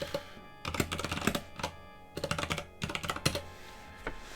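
Computer keyboard typing in bursts of rapid, close key clicks separated by short pauses, with no voices over it.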